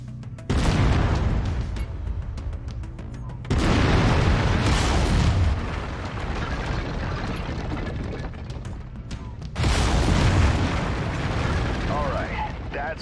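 Mech lasers firing in MechWarrior 5: Mercenaries, three loud, roaring broadband blasts, each starting abruptly and sustaining for several seconds with a heavy rumbling body.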